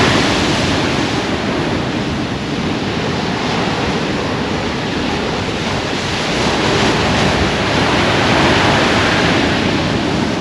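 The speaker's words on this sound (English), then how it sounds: "It's an absolute huge wave coming in." A huge sea wave, part of a heavy swell, rolls in on the Holderness coast at Aldborough as a loud, sustained roar of breaking surf that swells slightly toward the end, with wind buffeting the microphone and no voices.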